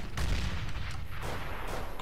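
A decoy grenade in a Counter-Strike matchmaking game mimics gunfire, with a burst of loud sharp cracks followed by repeated shots under a low rumble, and no voices.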